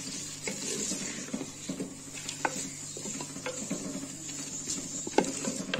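Quail karahi sizzles over a medium flame in a pot, a steady crackle with occasional stirring clacks and utensil knocks, close and moderately loud with no talking.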